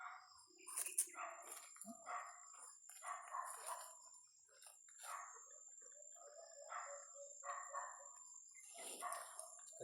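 A dog barks several times in the distance outdoors, short faint yips scattered under ongoing talk, with birds and a steady high insect-like whine in the background.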